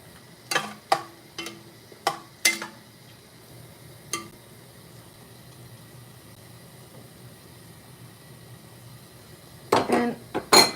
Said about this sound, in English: then we're just gonna stir that in